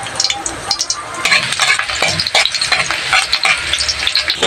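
Garlic sizzles steadily in hot oil in a wok, with crackling frying noise and occasional light scraping clinks of stirring, close and fairly loud, no talk.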